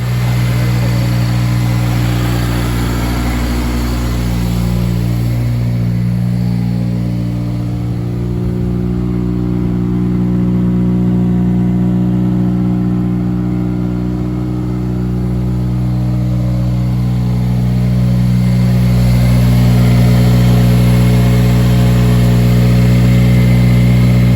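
A Honda Civic with a K20Z1 engine, 3-inch piping, stock TSX manifold and 2005–06 RSX Type S muffler idles with a deep, steady exhaust drone, swelling slightly as the revs rise near the end.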